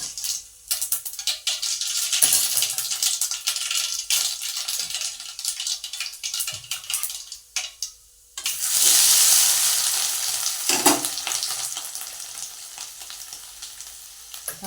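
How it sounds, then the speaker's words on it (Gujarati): Tempering for bhaji hisses and crackles in a hot pan for bhel, with intermittent stirring scrapes, then a louder burst of sizzling as ingredients hit the oil. "આપણે જો ભાજી વઘાર નાખી ભેળમાં નાખવા માટે."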